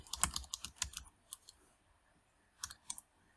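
Quick keystrokes on a computer keyboard while renaming a sheet in CAD/CAM software: a close, crisp cluster of clicks, a quiet pause, then a few more taps.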